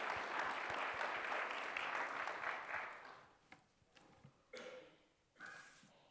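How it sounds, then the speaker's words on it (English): Audience applause at a Disability Awareness Month kick-off event, a steady round of clapping that gradually fades out, followed by a few scattered claps and small noises. "Give them a round of applause"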